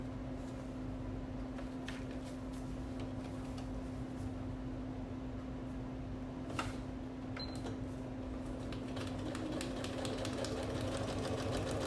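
A sewing machine stitches a quilt block line in one steady, continuous hum and whir, with a few faint clicks over the running motor.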